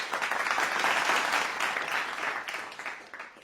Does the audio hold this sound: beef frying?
no